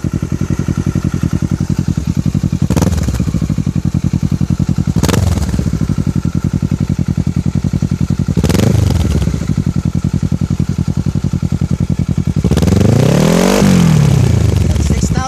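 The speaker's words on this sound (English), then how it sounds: "Okay, so I'm gonna rev it to see how it sounds like." A 2013 Kawasaki Ninja 650 with a Two Brothers full exhaust system idling loudly up close, then revved hard in four sharp throttle blips, the last one the longest and highest.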